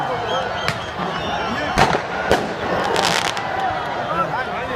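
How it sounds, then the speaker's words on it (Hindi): Fireworks crackling and popping at a celebration of a football semi-final win decided on penalty kicks, with sharp bursts over a dense crowd murmur, heard at moderate distance. "ये आतिशबाजी शुरू हो गई।"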